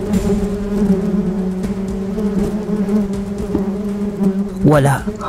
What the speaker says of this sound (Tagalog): Kaya naman doon ay sumiklab sa buong kakahuyan ang napakaraming insekto na humabol din kay Dato Marikdana.